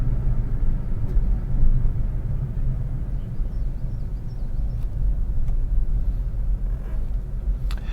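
Steady low rumble of a queue of vehicles idling on a closed Alpine road during a skateboard racing event, a continuous engine drone at moderate distance with a few faint clicks and no clear voices.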